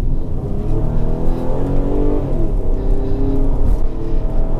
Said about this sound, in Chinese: 最主要佢真係佢而家加速個反應係好好嘅